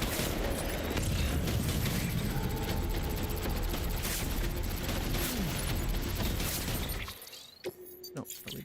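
Dense, continuous gunfire and crashing impacts aimed at the player in Death Stranding, loud and unbroken for about seven seconds before cutting off abruptly into a quieter stretch with a few scattered hits.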